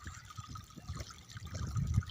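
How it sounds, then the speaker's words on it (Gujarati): Water trickles and splashes quietly into a drinking trough for birds, a soft steady pour growing slightly fuller toward the end, with no voices. "પક્ષીઓને પાણી ભર્યું કુંડમાં"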